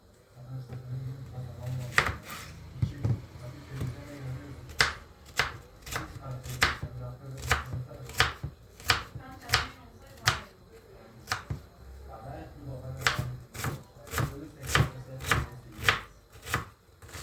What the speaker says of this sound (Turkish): Üç tane soğan normal yemeklik doğrayacağım.